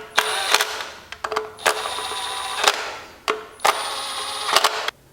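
An impact or ratchet-style cordless tool runs down oil pump bolts on a Chrysler FWD 3.2/3.6 engine, in several loud, close bursts of whirring and clicking with brief pauses between them.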